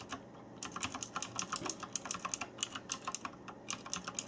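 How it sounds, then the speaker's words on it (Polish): Fast, uneven clicking of a Thermaltake Tt eSPORTS Poseidon Z compact mechanical keyboard with light-actuating switches, close up and alone, with bursts of keystrokes and brief pauses. "I na tej klawiaturze pisało się i grało naprawdę fajnie."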